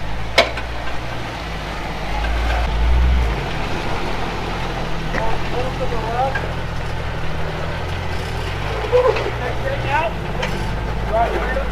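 An off-road vehicle crawling along a rough trail, its low engine rumble steady throughout with occasional knocks and bumps, while people talk and give driving directions over it.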